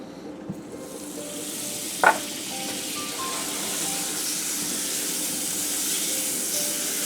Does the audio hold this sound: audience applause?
no